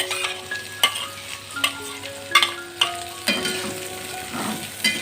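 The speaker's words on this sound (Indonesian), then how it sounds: "Kemudian ditumis dengan 4 sendok makan minyak goreng." Chilies are stir-fried in about four tablespoons of cooking oil, a steady sizzle with repeated scraping and clinking of a spatula against the pan, close and alone without voices.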